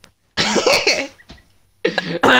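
A character in the video game Halo 5 coughs in harsh, loud bursts, a short fit followed by a pause and then two more close, rough coughs.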